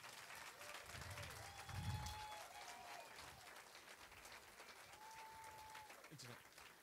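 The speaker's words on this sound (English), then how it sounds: "So please give her a round of applause." An audience applauds a contest organizer at a Texas auctioneer contest finals event, steady moderate clapping across the whole stretch with a brief swell near the start, while people talk over it.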